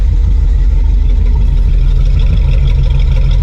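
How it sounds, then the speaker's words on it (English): A 1987 GMC Suburban fitted with an Evil Energy carburetor idles close by, a loud, steady, even engine rumble with a slightly lumpy pulse and no talking. "The exhaust is loving right there."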